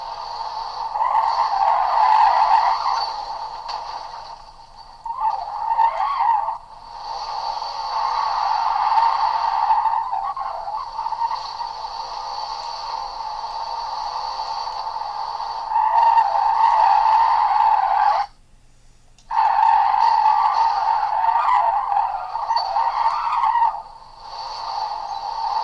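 Sustained tire squeal from a 1991 HSV Commodore Group A SV drifting in Forza Motorsport, long continuous screeching runs that break off briefly and resume, loud and steady with no talking.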